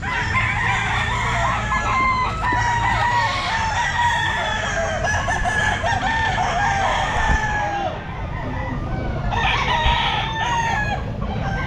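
Several roosters crow loudly and repeatedly at the Mt. Banahaw Grotto pet market, overlapping calls and clucks filling the air nearby, with faint crowd noise underneath.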